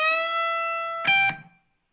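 Funky blues guitar lick in A, a sustained electric guitar note ringing clearly, then a short hit high on the first string that is cut off quickly, close and alone.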